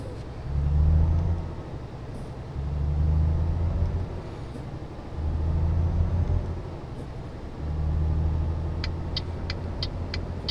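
Simulated heavy truck engine in Euro Truck Simulator 2 revving up and dropping four times in a steady rhythm as it shifts quickly through the gears, a loud low rumble with brief high clicks near the end.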